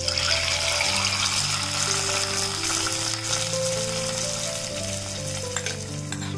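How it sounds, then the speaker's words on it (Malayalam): Mustard seeds tempered in hot oil are poured into a Kerala-style sardine curry made with ground coconut, bursting into a loud sizzle that settles into steady frying and slowly fades. "നമ്മൾ കടുക് വറുത്തത് നമ്മുടെ മീൻകറിയിലേക്ക് ഒഴിച്ചു കൊടുക്കാം"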